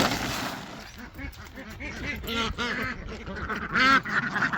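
Ducks on a homestead quack in a steady run of nasal calls, several overlapping close by, rising to a louder burst near the end.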